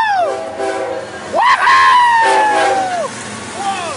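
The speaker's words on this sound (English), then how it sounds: "look at those engines chugging" BNSF and Amtrak locomotives pass in the snow, sounding loud, sweeping horn blasts close by over the rumble of the train, with excited cheering from onlookers.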